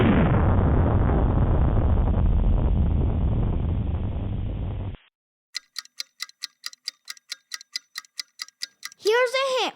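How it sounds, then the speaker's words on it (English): A rocket ship launch sound effect roars loud and broad for about five seconds, then cuts abruptly to a fast run of crisp ticks, ending in rising and falling electronic sweeps. "flying away on your rocket ship? Initiating launch sequence."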